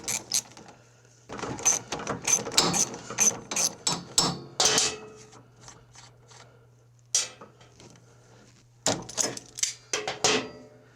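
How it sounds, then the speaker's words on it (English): Needle-nose vise grips work a tight nut back and forth on a stud inside a small Toro snow blower, making bursts of sharp metallic clicks and ratcheting scrapes, with quiet pauses between the close, loud clusters. "I'm going to get in there with some needle nose vice grips and grab that stud"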